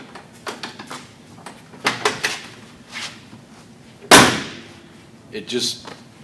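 A restored car door swings shut once with a loud, solid thud near the middle, alone, amid quieter clicks and handling noises around it.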